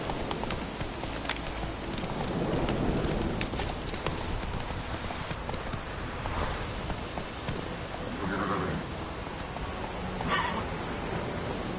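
Roach the horse gallops in The Witcher 3, hooves clip-clopping in a steady rhythm under light rain and ambient wind, with brief fainter sounds rising now and then.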